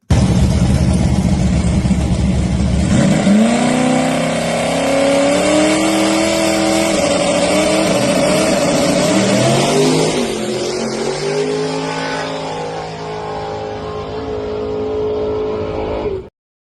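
A race car accelerates hard in an elimination round, its engine roaring loud and close as it climbs through the gears with rising, sweeping pitch over a sustained rumble.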